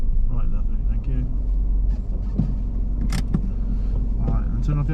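Steady low engine rumble of a car idling, constant throughout, with a few faint clicks and brief murmurs of talk over it.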